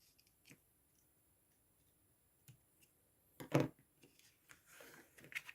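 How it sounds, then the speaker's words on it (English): Scissors snip away excess cotton around a paper heart while a spinning heart card is made: a few faint clicks, then a sharp snipping cut and several quieter snips and taps, close by and alone with no voices. "And then we just snip the excess away."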